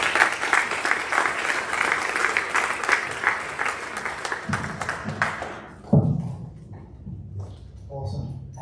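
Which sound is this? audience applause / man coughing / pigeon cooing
audience applause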